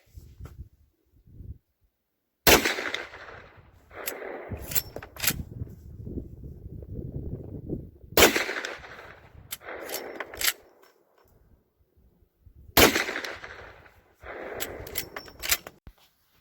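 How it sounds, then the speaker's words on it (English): Shots from a .44 Magnum pistol caliber carbine at a chronograph range, three or four sharp cracks spaced several seconds apart with quieter clicks and rustling between them. "All right, Scott, the second group with the 44 mag, what are we seeing here?"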